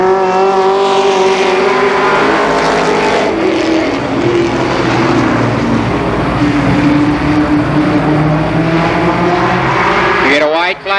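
Race cars roar around Columbus Motor Speedway in an oval-track event, loud continuous engine drone with shifting pitch as cars pass close, and a commentator talks over the racing throughout.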